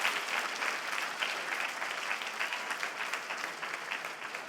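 An audience at a public speech breaks into sustained applause, a dense, even wash of many hands clapping at moderate distance with no voices over it.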